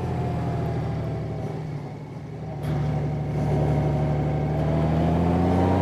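Steady, smooth hum of a 2018 Honda Goldwing motorcycle engine pulling at low revs on a winding mountain road, heard close and continuous, dipping slightly and then rising as the bike accelerates.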